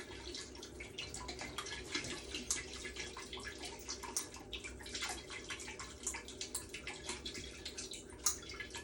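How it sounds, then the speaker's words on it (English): Hot tap water runs into a bottle to rinse out oil, a continuous soft splashing trickle with small irregular drips and gurgles throughout, fairly quiet and with no voices. "The hotter the water is, the oil will come out."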